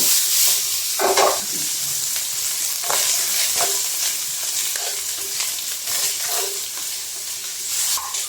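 Carrots sizzle steadily in a hot pan as a utensil stirs and scrapes them in repeated strokes, the frying hiss continuous throughout.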